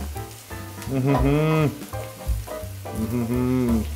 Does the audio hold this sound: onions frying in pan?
yes